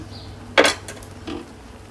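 Metal bowls and a pot knock together while Korean noodles are cooked on a stove, with a single sharp clank and then a softer clink close by and no talking over it.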